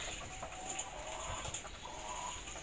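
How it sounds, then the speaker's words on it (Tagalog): Layer chickens cluck and chatter steadily in a noisy coop, a continuous flock murmur with scattered short calls rising above it. "Pakinggan na lang muna yung ingay nila dyan. Ingay ng mga manok."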